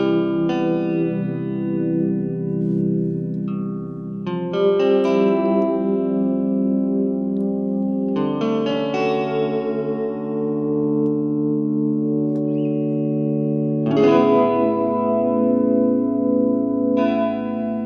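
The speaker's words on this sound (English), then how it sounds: "it just adds like a sort of a glassy reverb sound to your playing" An electric guitar played through a Chase Bliss Audio Chemistry pedal rings out in sustained chords and notes with a glassy, shimmering reverb tail, several phrases swelling and decaying with no talking.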